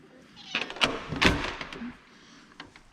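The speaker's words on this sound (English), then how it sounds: "Oh, there's a cat on the porch." A cat on a porch meows a few times in short, fairly close calls, with a thunk or two of movement nearby and no talking.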